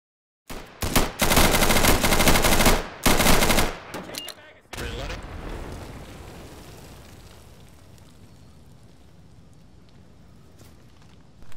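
Bursts of automatic gunfire in the Insurgency co-op shooter, two long loud sustained volleys followed by a few shorter shots, then fading into a low lingering rumble.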